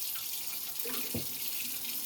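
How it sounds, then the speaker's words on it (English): Water running steadily into a stock pot in a home kitchen as eight cups go in before berries for juice, a continuous close hiss of pouring with no speech. "We're gonna put 8 cups of water in there"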